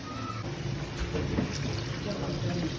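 Water splashes and gurgles into a pot of parrotfish curry up close, a short continuous pour with some clinking over a low background hum.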